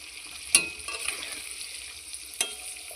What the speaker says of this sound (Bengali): এবার আমি গ্যাসটা হাই ফ্লেমে দিয়ে আলুটাকে ভালোভাবে ভেজে নিচ্ছি।